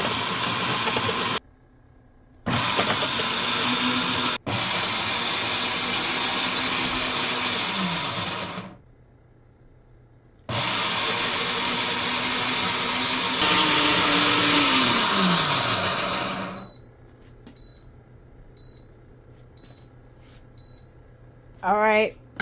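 A hot and cold blender churns ice cream in loud, sustained whirring bursts broken by short pauses, its motor pitch sliding as it runs, followed by quiet stretches with soft beeps from the control panel.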